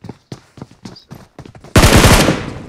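Gunfire in a video game shooter: a string of separate sharp shots, then a loud sustained automatic burst in the second half, close and dominant.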